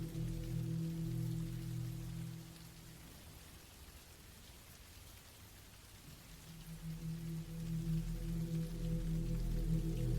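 Steady rain falls on a surface as a broad, even hiss, with a low rumbling hum underneath that dips in the middle and swells again toward the end.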